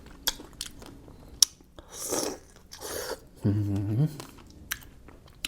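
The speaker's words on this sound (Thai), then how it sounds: "เราจะกินสตรอเบอรี่กับน้ำปลาร้าฉ่ำเลยทุกคน" Someone bites and chews strawberries dipped in fermented fish sauce, with a few close wet bites and squelchy chewing bursts separated by short pauses and small mouth clicks.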